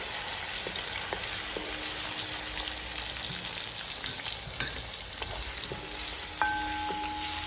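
Garlic sizzles steadily in hot oil for a pickle of sun-dried bilimbi, with a spoon scraping and clinking now and then as it is stirred, close and continuous with no talk.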